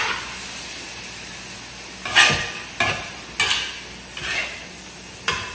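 Filling for Chinese spring rolls with dried black mushrooms frying in a pan, a steady sizzle and hiss under repeated scraping clanks of a utensil stirring against the metal, about five distinct knocks; no talking.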